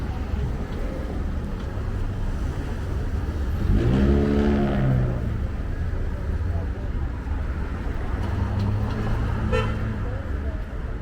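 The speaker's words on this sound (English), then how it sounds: "Oh wait, I don't want to get hit by this truck." A large truck rumbles past on a busy Bronx street along Fordham Road, a low engine swell building around the middle and fading amid steady traffic hum, with a brief tonal honk-like note near the end and talking nearby.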